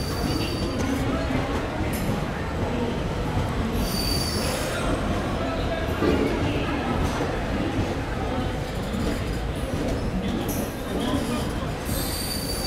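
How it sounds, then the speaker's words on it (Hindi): Sachkhand Express, the Nanded–Amritsar train, rolls in with steady wheel squeal and dense rail rumble throughout, loud and close, with faint voices underneath. "मीनवाइल वहाँ पर आ चुकी है सचखंड एक्सप्रेस अमृतसर से नांदेड़ से अमृतसर जाने वाली"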